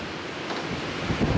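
Stormy wind gusting outdoors, a steady broad rushing roar that swells louder near the end, with no talking.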